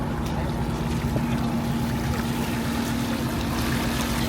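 A steady engine drone and rushing water from the Coronado ferry under way across the bay, a continuous low hum with wind and splashing, no talking.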